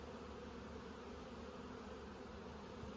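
Honey bees swarm around a hive in a dense, steady buzzing drone, faint but continuous, with no voices.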